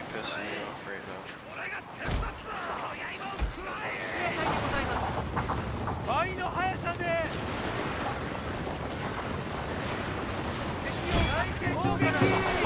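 Gunfire from a Shogun 2 multiplayer castle siege video game, dense and continuous with sharp loud bursts standing out, layered over a battle din while someone talks over it throughout.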